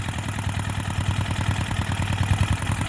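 A small 4 HP diesel engine runs at a steady idle after an old cold start, its rapid, even low thudding chugs close and alone.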